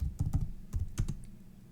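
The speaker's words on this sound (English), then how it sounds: "you could just type in Topps" Typing on a computer keyboard to enter a search, with a quick run of close key clicks in short bursts followed by a trailing pause.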